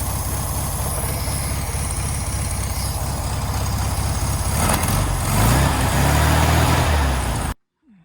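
An air-cooled VW Beetle engine idling on its first start after a fire, giving a loud, steady, close throb with a rough low rumble that swells slightly before cutting off abruptly near the end.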